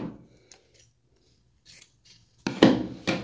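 Scissors cut fabric for a twisted headband: faint rustling and handling at first, then a quick series of crisp, close snips near the end, with no talking.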